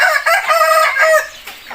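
A rooster crows loudly and close by in a long drawn-out call, with chickens clucking around it.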